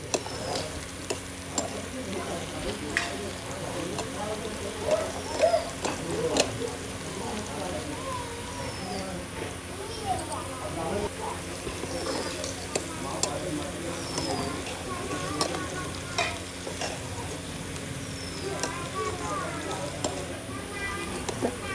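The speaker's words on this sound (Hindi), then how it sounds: "अब इसे भी अच्छा से हम गोल्डन ब्राउन कर लेती हूँ।" Onion, garlic and ginger paste sizzles steadily as it fries toward golden brown in a pan, a constant moderate crackle with occasional stirring scrapes and soft background voice.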